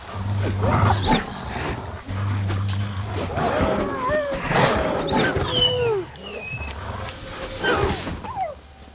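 Wolves snarl and growl in The Witcher 3, several aggressive calls over a few seconds amid combat noise and game ambience.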